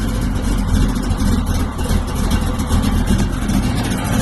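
A Dodge Scat Pack with a blower carburetor and an old-school cam idles roughly and loudly up close. Its low, lumpy rumble pulses steadily throughout, with slight revving surges and no voices.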